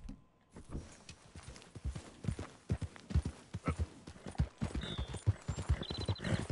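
Horse hooves clip-clop at a steady walking rhythm in the Red Dead Redemption game, close and clear, with a few faint chimes and background game ambience.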